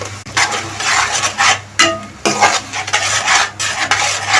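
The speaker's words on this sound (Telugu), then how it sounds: "ఈ టమాటా పచ్చివాసన పోయేదాకా వేపుకోవాలండి" Tomatoes and tomato paste fry in a pan while a spoon stirs steadily, producing loud, close scraping and sizzling in bursts with brief pauses.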